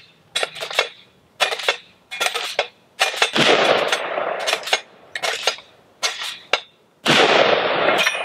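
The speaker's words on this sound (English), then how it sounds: "So I'm just gonna rack this 10, 15 times off the side of this steel target" A pistol fitted with a red dot sight base is racked hard against the edge of a steel target about ten times, each a sharp metallic clack-and-slide scrape in an irregular rhythm, close and loud, with no voices.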